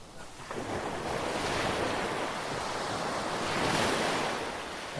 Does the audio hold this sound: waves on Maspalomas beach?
yes